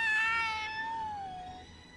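A single clear cat meow from the video game Tales of Xillia 2, a drawn-out tonal call that slides downward in pitch and fades over about two seconds.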